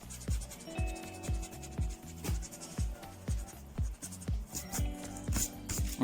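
Board eraser rubbed across a lecture board, a repeated rhythmic scrubbing of quick strokes, close and steady, with no talk.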